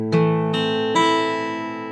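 A minor chord fingerpicked on guitar as the intro of a song, three plucked attacks in quick succession ringing out and sustaining, alone with no talk.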